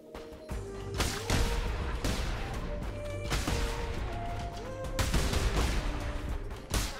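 Repeated explosions in the video game Cult of the Lamb burst in quick succession over a dense, noisy game soundtrack, loud and close, with sharp blasts near the start, middle and end.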